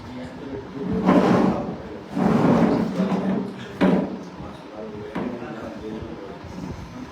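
A chair is dragged and shifted across the floor in several rough scraping bursts of varying length, fairly close, with voices murmuring in the room.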